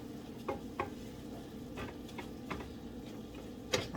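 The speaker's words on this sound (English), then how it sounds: "I'm going to put some into the kale now in the milk. Just a little bit. And I'm going to stir that." Turmeric being stirred into kale simmering in milk: a few soft scraping and tapping spoon strokes against the pot, spaced irregularly over a low steady background hiss, close and fairly quiet.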